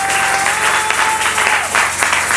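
A church congregation claps and cheers in acclaim of the Lord, a loud, dense burst of applause filling the room for a couple of seconds.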